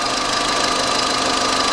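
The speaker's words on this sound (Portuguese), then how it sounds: "O motor trabalhando, saindo uma leve fumacinha" A Volkswagen Fox car engine runs steadily at idle during a major service, a loud, close, continuous mechanical drone with a slight knocking texture and no voices.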